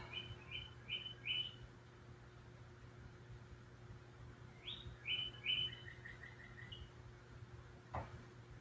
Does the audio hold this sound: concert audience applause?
no